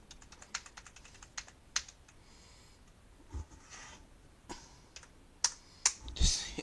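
Keys clack on an old computer keyboard in irregular bursts of close, crisp taps, with a few louder strikes near the end and no talking.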